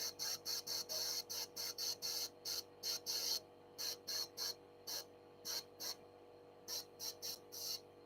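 Airbrush spraying paint for retro-apocalypse art effects, in quick repeated hissing bursts of short, fairly even length separated by brief pauses, close and soft with a faint background hum.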